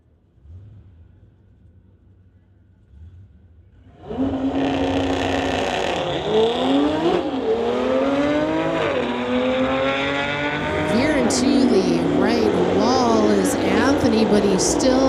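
A 2018 Audi RS3 and a 2018 Porsche 911 launch in a drag race at a street-legal strip event, engines roaring hard from a quiet start and climbing through gear shifts, loud and sustained, while an announcer talks over them.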